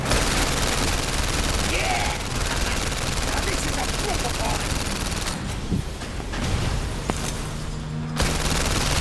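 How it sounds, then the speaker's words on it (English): Gunfire from the VR shooter London Heist on PlayStation VR, with dense, continuous bursts of shots and a helicopter-like drone filling the whole stretch and a brief lull near the end. "Shooting guns in general is just so satisfying in VR because you have this very direct mapping."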